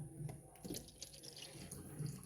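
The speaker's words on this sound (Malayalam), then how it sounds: "നമുക്ക് കുറച്ച് വെള്ളം ഒഴിച്ചു കൊടുക്കാം" Water runs and splashes steadily into a refrigerator drain for a couple of seconds, a continuous trickling flow with faint gurgles.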